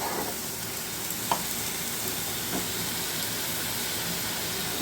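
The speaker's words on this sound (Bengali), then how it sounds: "ভালো করে মিক্স করে নিয়ে মশলাটা একটু সাঁতলানো হয়ে গেলেই" Spice paste sizzling steadily in a pan for a chicken gravy, a fairly quiet, continuous frying hiss with a few faint stirring clicks and no talking.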